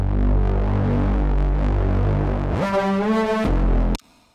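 A Reese bass synth patch made in Serum drones as a thick, throbbing low tone, then its automated filter cutoff sweeps open into a bright buzzing growl before the sound stops abruptly.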